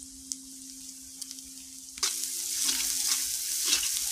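Crushed garlic and chopped onion hit hot oil with cumin and dried chili partway through, a quiet hum giving way to a loud, bright sizzle that keeps bubbling to the end.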